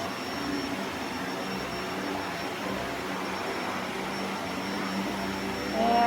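A Shark NV752 Rotator Powered Lift-Away upright vacuum runs on carpet with a steady, fairly loud motor roar and airy suction hiss, unbroken throughout and swelling slightly at the very end.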